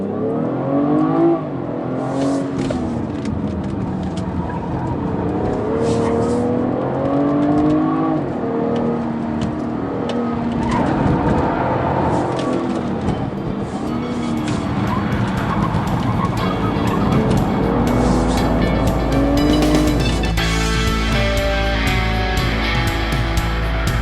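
A 2016 BMW 340i xDrive with all-wheel drive launches hard and corners on a race track, its engine revving loudly and climbing through gears with steady rising whine, continuous and close throughout.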